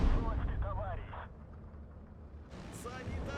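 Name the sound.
artillery fire in Steel Division 2 video game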